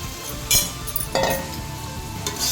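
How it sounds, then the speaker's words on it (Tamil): Mutton sautéing in tomato masala in a pan for mutton biryani, a steady close sizzle with a few clinks and scrapes of the stirring spoon, no talking. "மட்டன் சேர்த்துட்டு நல்லா வதக்கிக்கலாம் இந்த மசாலாவோட நல்லா கலந்து வரணும்"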